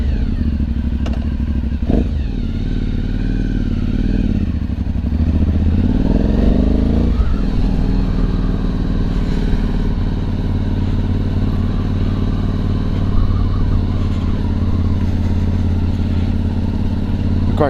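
An Aprilia Shiver motorcycle rides along a coast road, its engine loud and close, revving up through the gears with a steady rumble and some clattering thumps.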